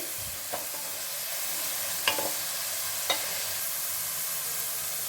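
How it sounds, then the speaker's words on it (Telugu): Onions and curry leaves fry in a pan for a Nellore fish curry, a steady soft sizzle with a few sharp stirring clinks scattered through it. "కరివేపాకు వేసుకుందాము. ఆనియన్స్ కొంచెం వేగనండి."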